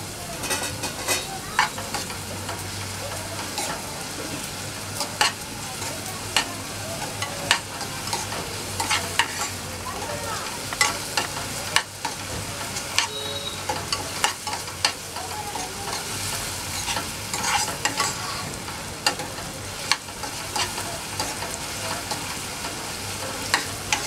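Ginger garlic paste sautéing in a pan for a capsicum and gram flour dish, a steady frying sizzle punctuated by frequent sharp scrapes and taps of a spoon stirring, close up with no talking.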